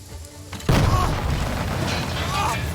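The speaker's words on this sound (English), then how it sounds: "You just blew up the Jeep." A grenade blast in the Jagged Alliance video game destroys a Jeep: a sudden loud boom after a quiet moment, followed by a rolling rumble that lingers, with voices talking over it.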